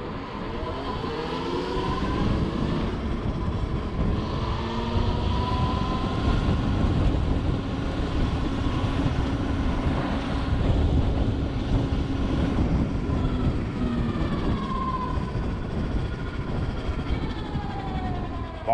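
Ride on a Masai Vision 3000 electric 50cc motorcycle on roads and slopes, with a steady whining motor tone that rises and falls under heavy rushing wind noise throughout.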